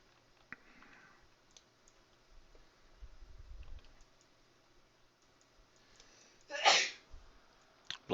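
A single sharp sneeze bursts out near the end over faint keyboard typing and clicking during online game play at a computer.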